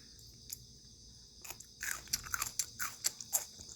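Crunchy chewing of homemade sweet potato stem kimchi made with glutinous rice paste and ground chili, close up: a few sparse bites, then a rapid run of crisp crunches.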